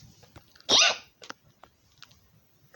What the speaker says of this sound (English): Oh, we still got the hiccups.